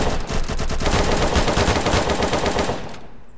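Rapid, continuous gunfire in the mobile shooter game Rapira rattles loudly for several seconds, a dense automatic burst that cuts off abruptly near the end.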